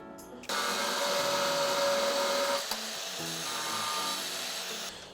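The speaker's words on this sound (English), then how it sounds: "I'm then going to use my grinder blade to take that corner off" Angle grinder with a blade cutting a corner off a 20mm porcelain outdoor step tile, a loud continuous whining grind that starts abruptly, shifts in pitch partway through as the blade bites, then stops.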